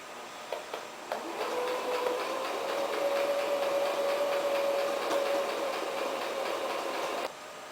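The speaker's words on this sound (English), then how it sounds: "I'm going to start sewing a few inches up" A sewing machine runs steadily as it stitches a fabric swimmable mermaid tail, a continuous mechanical whir with a light buzzing hum that holds for several seconds after a few soft taps, then cuts off near the end.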